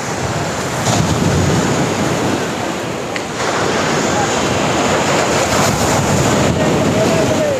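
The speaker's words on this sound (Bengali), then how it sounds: "সমুদ্রে কিন্তু প্রচুর ঢেউ রয়েছে" Sea surf at Gangasagar, where the Ganga meets the sea, during the 2024 mela: a steady, loud wash of rolling waves with gusty wind buffeting the microphone throughout.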